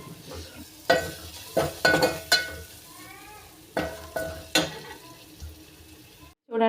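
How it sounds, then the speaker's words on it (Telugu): Tempering poured into boiling tomato tamarind rasam gives a soft sizzle, with intermittent sharp clinks and scrapes of a spoon stirring the pot, close up and without talking. "ఈ మసులుతున్న రసంలో నేను ఇందాక మనం వేసుకున్న పోపును కలిపాను"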